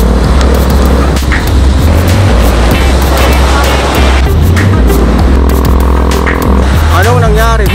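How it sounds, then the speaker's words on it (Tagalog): Dense road traffic on a highway near Taal, a continuous loud engine and tyre rumble with passing vehicles, heard from inside or beside a car with people talking over it. "Traffic, traffic!"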